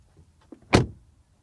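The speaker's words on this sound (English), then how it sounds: "Let's take a quick look at the door shutting sound." A single solid door shut on a Mercedes A-Class facelift or Audi A3 premium hatchback: one close, heavy thump with a short settling rattle, preceded by faint small clicks and no talking.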